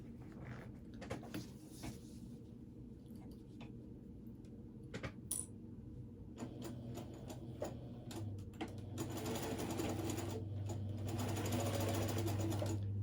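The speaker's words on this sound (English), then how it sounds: "And then you sew it." Sewing machine stitching the boxed corners of a cross body bag and its lining, with scattered ticks and clicks early on before a steady, close motor hum builds toward the end.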